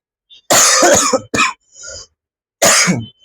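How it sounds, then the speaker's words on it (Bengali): A person coughs loudly and close by, in a cluster of harsh bursts followed by a short pause and one more forceful cough. "কিরে ভাই এত কাশি আসতেছে কেন?"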